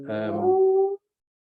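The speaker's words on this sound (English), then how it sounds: "Your dog's demanding some attention, or maybe wants to contribute." A pet dog gives a single drawn-out whimpering whine, close and fairly loud, lasting about a second before stopping abruptly into silence.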